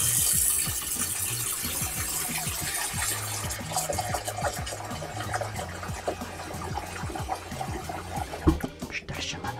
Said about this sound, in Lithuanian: Nu, įpilam vandens į puodą.